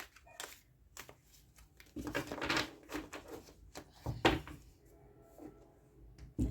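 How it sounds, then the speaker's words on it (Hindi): A deck of tarot cards is shuffled close by in quiet, uneven bursts of papery riffling and soft taps, with short pauses between them. "एक बार शफल कर लेते हैं एनर्जीज ओवरऑल डेक के लिए"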